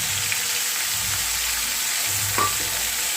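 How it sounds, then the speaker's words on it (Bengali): Ginger and green chilli paste sizzles in a pan over a low flame, a steady broadband hiss lasting throughout with one brief stir or scrape near the end. "এবার আমি দিয়ে দিচ্ছি আদা কাঁচা লঙ্কার পেস্ট, একদম লো ফ্লেমে দিয়ে দেবো।"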